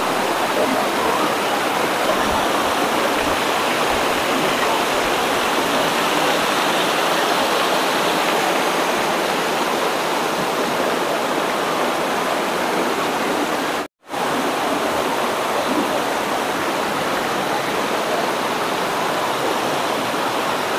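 Water cascades over a weir like a curtain-shaped waterfall at Pang Sawan in Ban Rai, Thailand, making a loud, steady broadband rush that fills the whole stretch, with only a momentary break near the end.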